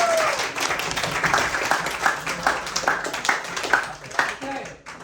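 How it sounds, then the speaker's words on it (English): An audience at a Buddhist discussion gathering claps for about five seconds, moderately loud and uneven, with individual claps standing out and voices murmuring underneath. "Big applause."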